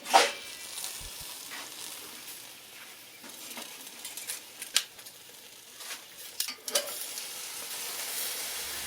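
A tallow-injected smoked tri-tip sizzles softly on a small Smoky Joe grill, a low steady hiss with scattered crackles and a few sharp pops and metallic ticks of handling.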